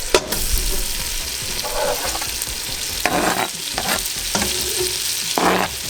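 Minced garlic fries in a hot pan with a loud, constant sizzle and crackle, overlaid by repeated scraping strokes as it is stirred, close up and without talk.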